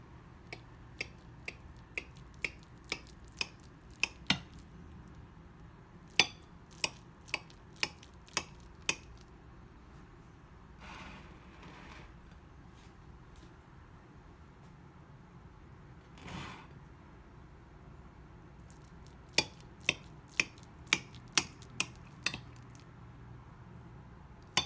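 A knife cuts kiribath, Sinhala coconut milk rice, into diamond-shaped pieces, leaving sharp, faint clicks and taps against a plate or board in quick rhythmic runs separated by quieter pauses.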